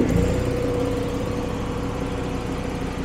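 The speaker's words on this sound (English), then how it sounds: "Now we're going to come over here to the air compressor." Air compressor on a small oil rig running steadily and building pressure, a loud continuous engine-like drone with low harmonic hum that holds even throughout.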